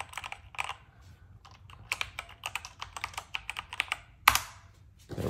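Clicky mechanical keyboard keys on a BK67 Bluetooth mechanical keyboard pressed in quick, uneven bursts up close, with one louder clack near the end and no talking.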